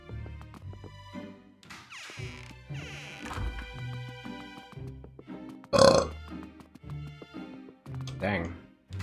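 A loud, wet burp bursts out in Luigi's Mansion 2 HD amid game music and light effects, short and sudden in the middle of the passage.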